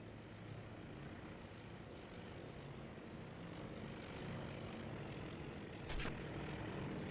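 Propeller aircraft engines in the naval strategy game Task Force Admiral at Midway, a continuous broad droning roar that holds steady throughout with a short sharp burst near the end.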